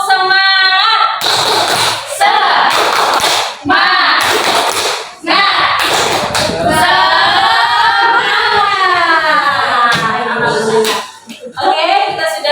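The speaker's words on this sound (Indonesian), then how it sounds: "coba kita tepuk semangat dulu bersama-sama" A group in a classroom performs a rhythmic spirit clap (tepuk semangat), with bursts of patterned hand claps alternating with loud chanted voices in a lively call-and-clap pattern.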